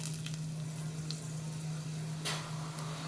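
Chana dal and urad dal frying in hot oil make a soft, steady sizzle, with a low hum running underneath and a couple of brief utensil clinks.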